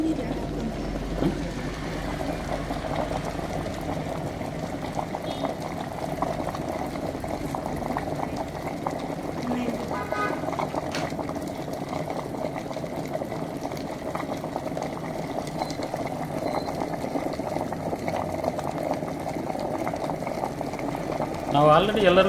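Hot water poured and left boiling for a quality check of gold-plated items: a continuous bubbling, rushing liquid sound that holds steady throughout, with voices talking over it.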